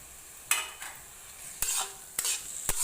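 Fish goes into a pan with mustard for a sour curry, and the pan answers with a steady low sizzle broken by several sharp scraping stirs of a utensil against the metal, close and with no talking.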